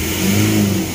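Brief, loud, close-up revving of a car engine treated with a smoke-reducing additive, held high for under a second with no speech.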